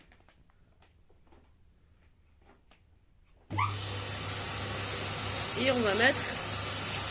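A vacuum pump attached to an Action sous-vide bag starts with a sudden loud, steady hiss and rushing air that continues and slightly builds, following a few quiet handling sounds and a short spoken phrase.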